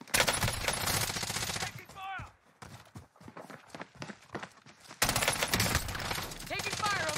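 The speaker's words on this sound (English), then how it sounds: "Taking fire over here." Sustained automatic gunfire rattles loud and close in Call of Duty: Warzone, breaking into a quieter stretch of scattered single shots before another heavy barrage, with voices mixed into the battle noise.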